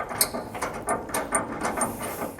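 A flange nut with a rectangular spacer is hand-tightened onto a Curt custom fifth wheel bracket in a 2010 Ford truck bed, giving a close run of quick metallic clicks and light ratcheting taps in an irregular rhythm.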